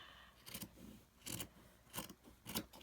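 Scissors rough-cut fabric strips for a Christmas stocking ornament in four quiet, close snips spaced evenly apart.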